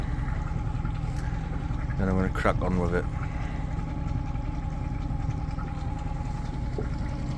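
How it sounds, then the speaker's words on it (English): A Yamaha outboard motor idles steadily at a low, even hum throughout, with someone talking briefly over it partway through. "There we go. Idling nicely."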